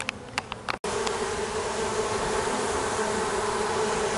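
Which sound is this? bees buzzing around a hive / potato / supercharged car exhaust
bees buzzing around a hive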